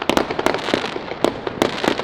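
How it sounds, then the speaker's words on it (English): Fireworks crackle and pop in rapid irregular bursts, a dozen or so sharp bangs spread over two seconds, moderately distant in the background with no voices. "we've got bloody explosions in the background"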